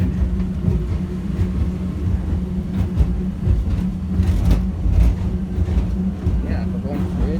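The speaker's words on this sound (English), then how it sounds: "I swear, this feels like a highway car drive because we're going so fast." An airport underground people-mover train races toward Terminals D and E, its steady low rumble and rattling wheels continuous throughout, loud and close from inside the car, with occasional voices under the noise.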